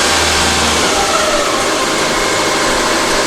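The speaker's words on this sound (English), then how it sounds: "Then switch off the ignition key. This shut off the engine." A multi-cylinder petrol engine runs steadily on a dynamometer test bench for a Morse test, producing a loud, continuous mechanical drone with a low throb that eases slightly partway through.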